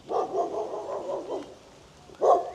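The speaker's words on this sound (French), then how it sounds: "le chien il veut ma peau, est-ce qu'il va me mordre?" A dog barks nearby in a loud burst of a few quick barks, then pauses briefly before one more bark at the end.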